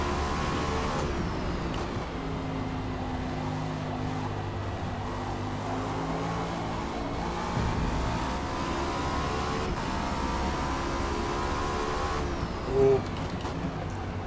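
A Cadillac V-Series.R race car in Forza Motorsport at Watkins Glen, its engine holding a loud, continuous, steady drone at high revs with only slight pitch shifts, heard close and alone.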